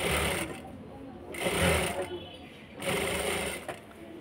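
A sewing machine runs in bursts while stitching a hem, its motor whirring loudly and close in three separated runs, with a voice speaking in between.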